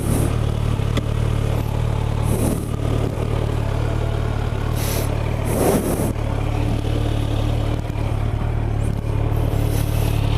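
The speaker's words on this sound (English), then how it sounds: "So it's that inline 4, very smooth sounding." An inline-four motorcycle engine idles steadily and smoothly with a constant low hum, close by, with a few brief clatters and light revs over the running note and no talking.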